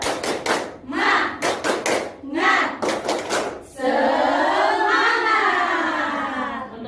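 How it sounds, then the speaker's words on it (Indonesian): A classroom of students performs rhythmic 'tepuk semangat' clapping in quick patterned bursts of claps, followed by a sustained group chant of voices. "tepuk semangat dulu semuanya"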